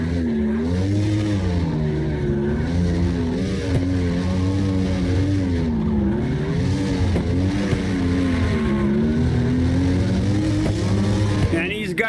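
In the CarX Drift Racing Online video game, a car drifts with a loud, continuous engine drone that rises and falls and tires squealing near the end, while a commentator talks over it.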